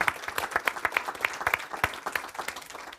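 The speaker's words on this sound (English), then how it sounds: "give a round of applause for that" A seminar audience applauds, a brisk burst of many hands clapping together at moderate distance, dense and steady for a few seconds.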